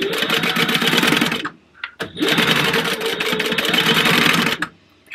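A sewing machine runs in two loud, continuous bursts as it stitches over a nylon zipper, with a short pause between them, while assembling the card slots of a purse.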